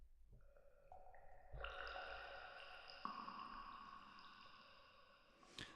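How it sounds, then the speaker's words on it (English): A Pro Tools Xpand 2 synth preset of falling water drops plays alone: a few soft plinking tones enter one after another and layer into a sustained, shimmering chime-like pad with gentle drip accents. "This one's called Water Drops Falling."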